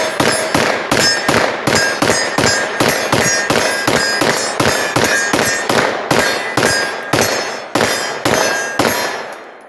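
A rapid string of roughly twenty shots from a Turkish MKE AP5 MP5 clone, each round ringing off a big steel target with a bright metallic clang, fired in a fast, slightly uneven rhythm that stops abruptly near the end.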